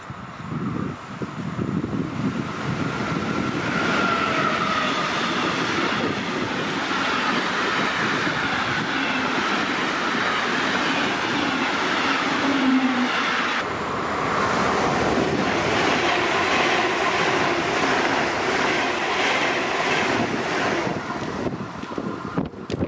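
A Vectron electric locomotive train passes on the Left Rhine line near Sinzig, a loud sustained rumble and rolling clatter of wagons with wind buffeting the microphone, steady for over twenty seconds without speech.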